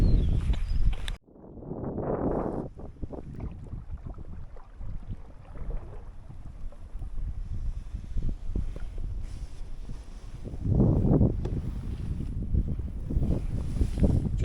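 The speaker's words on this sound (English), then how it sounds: "It's quite breezy today on Islay" Steady wind rushes and buffets across the microphone on a breezy day of sea kayaking off Islay, Scotland, with gusts swelling near the start and again toward the end.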